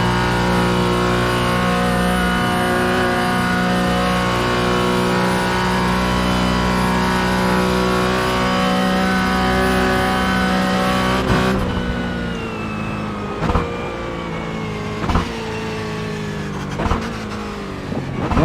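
Simulated Porsche Cayman GT4 engine on the Nürburgring in a sim racing game, a loud steady high-revving drone with shifting harmonics, then easing off with short revving bursts and gear changes toward the end.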